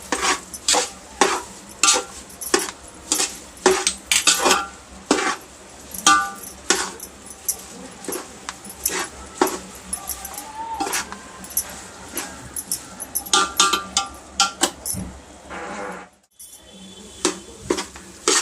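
Semolina roasting in a pan for sheera, stirred continuously with a spoon, giving a steady run of close scraping clinks against the metal pan over a soft sizzle.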